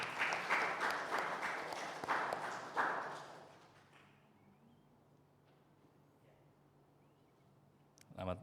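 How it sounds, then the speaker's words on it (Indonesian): A church congregation claps during a service, a dense wash of applause for about three seconds that thins out, leaving a quiet room hum and faint movement. "Kita tepuk tangan."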